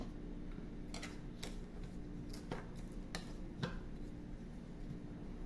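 A spoon stirs dried shredded coconut with milk in a bowl, giving soft scraping clicks and taps at an irregular pace in a quiet kitchen.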